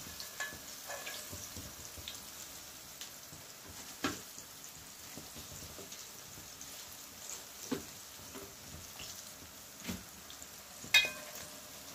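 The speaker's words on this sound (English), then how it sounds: "French fry ackee." Ackee sizzles and crackles steadily as it fries in a hot pan, a soft continuous frying hiss with occasional small pops, close by and fairly quiet.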